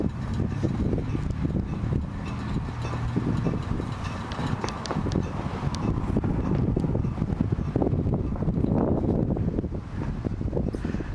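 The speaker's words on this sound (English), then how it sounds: "So you think this wind will ever stop?" Strong outdoor wind buffets the microphone in Lancaster, California, a continuous loud rumbling roar with gusty surges throughout.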